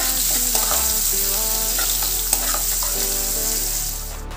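Onions fry in a pan of hot oil for a brinjal and salted-fish curry, a loud, dense, steady sizzle with faint stirring scrapes throughout, no voices.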